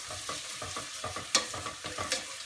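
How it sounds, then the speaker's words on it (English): Vegetables are stirred as they sweat in a pot for a French fish stock, a brief run of rhythmic scraping spoon strokes over a soft, low sizzle. "gonna then add all of my vegetables. All at once. I'm gonna stir them."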